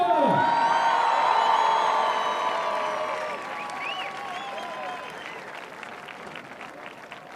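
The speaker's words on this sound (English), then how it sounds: "Un tonnerre d'applaudissements s'il vous plaît pour Charlotte Durif" Crowd at a climbing World Cup lead final in Briançon applauding climber Charlotte Durif, with cheers and whoops while arena music rings out loud at first, then fading clapping trailing off into the hall.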